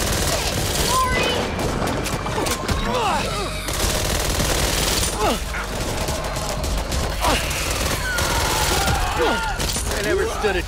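Near-constant automatic gunfire in the zombie shooter Back 4 Blood, dense rattling bursts layered with shattering and mechanical clatter, with voices calling out at times.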